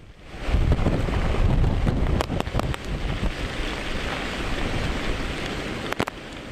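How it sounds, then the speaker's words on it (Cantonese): Typhoon-strength wind roars across the Kennedy Town waterfront in Hong Kong during a Signal No. 10 storm, a loud continuous buffeting rush with microphone gusts and rumbling lows throughout. "基本上要隨時警覺同留意啲風喺邊度吹過嚟"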